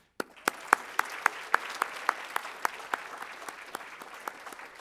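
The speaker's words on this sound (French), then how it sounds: "je voudrais rendre une énorme main d'applaudissements pour ceux qui ont organisé l'événement" A conference audience applauds the event organizers at a tech talk on Shopify, GraphQL and React. A few sharp claps stand out over a thin, steady patter that slowly tapers off.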